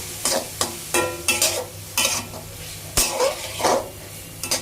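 Boiled squid stir-fried for seafood fried rice, a pan sizzling steadily under repeated sharp scraping and clanking of a utensil against the pan, close and rhythmic.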